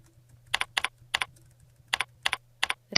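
Someone types a street name on a computer keyboard in short bursts of crisp, close key clicks separated by brief pauses, with a steady low hum underneath and no talking.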